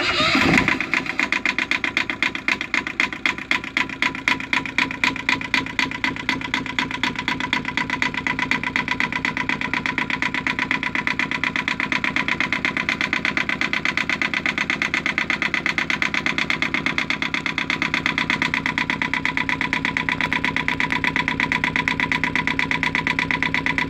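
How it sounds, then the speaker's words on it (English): The engine of a Westerly Fulmar sailboat cranks from cold with rapid rhythmic chugging, then catches and settles into a steady, loud idle that runs on without pause. "we're going for a cold start on the engine"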